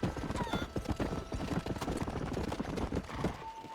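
Horse hooves clip-clop steadily as a horse is ridden in an open-world Western video game, a quick even rhythm close by with an occasional whinny and no talk.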